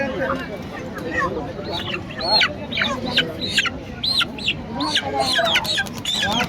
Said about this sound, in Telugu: ఏ కోళ్ళు ఇవి? నాటుకోళ్ళ